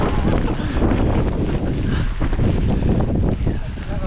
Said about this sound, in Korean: 지금 여기 보시다시피 바람이 장난 아니에요 바람이 바람이 진짜 바람이 심해요.